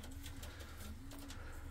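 Tumbler-type pigeons that play at 30 to 40 metres coo faintly against steady background noise, with a few soft rolling calls heard alone.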